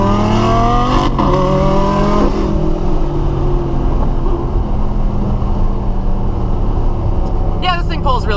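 A 617-horsepower Mercedes SLR engine accelerating hard, loud and close, with rising harmonic tones as it climbs through the revs and a gear change early on, then a broad roar that settles into a sustained drone.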